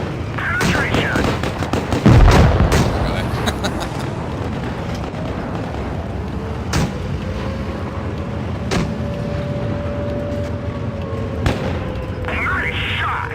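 A tank cannon fires in World of Tanks gameplay, a single loud boom early on amid continuous battle noise, engine rumble and game voice lines, with sharper impacts following.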